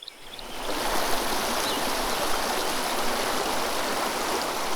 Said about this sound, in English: the water's flowing too fast and too turbulent